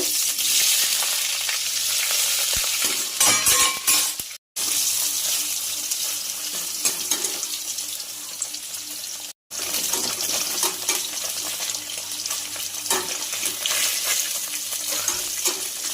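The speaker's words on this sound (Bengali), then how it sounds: "তেলটা গরম হয়ে গিয়েছে, পনিরটা ছেড়ে দেব।" Paneer frying in hot white oil, a loud dense hiss and crackle that runs continuously up close, cut twice by brief silent gaps before resuming at full strength.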